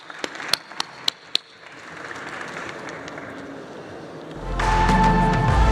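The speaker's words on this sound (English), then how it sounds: "please join me in giving them a round of applause" An audience applauds the panelists at the Bitcoin MENA 2025 conference: a few sharp early claps swell into steady, fairly close applause, which grows louder near the end as music enters.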